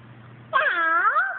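A person's voice imitates a cat's meow in a single short, clear, close-up call that rises and then falls, coming after a brief quiet lead-in.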